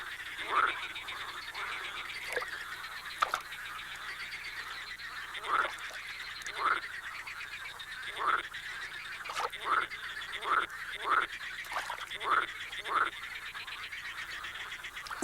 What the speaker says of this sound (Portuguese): Ao cair da noite, os coachos destes excitados anfíbios chegam ao seu clímax